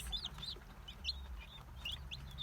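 Several Barred Rock hens cluck softly in short, repeated bursts over a low outdoor rumble.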